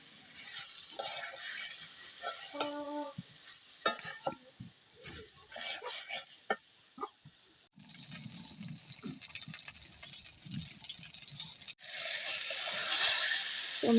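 Dried fish curry with potato cooks in a pan, with quiet scraping stirs, soft sizzling and occasional clinks coming in irregular bursts, fairly faint and close.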